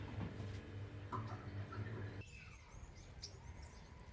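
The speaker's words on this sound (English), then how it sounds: "gonna see if I can get some birds come down to bath" Small birds chirp intermittently over a low steady hum, then the hum cuts out, leaving a few faint tweets and outdoor ambience.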